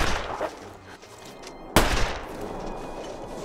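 A single rifle shot rings out in The Long Dark video game, a loud, close, sharp crack partway through over a low, steady in-game ambient background.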